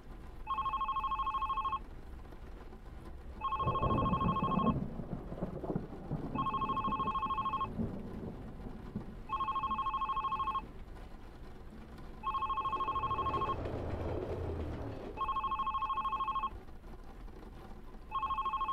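Telephone ringing in the video game The Red Strings Club: six evenly spaced electronic double-tone rings, each about a second long with short pauses between, over faint low background noise and brief muffled rumbles.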